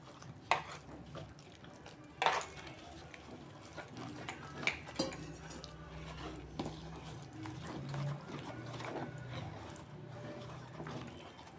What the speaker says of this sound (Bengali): ব্যাটারটা আমি অল্প জল দিয়ে আমি গুলে নিচ্ছি।